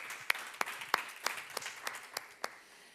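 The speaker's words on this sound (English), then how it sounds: "An applause for the three of them." Applause for three expert panelists at an innovation forum, sparse and faint, with distinct single claps spaced roughly every third of a second over a soft background patter.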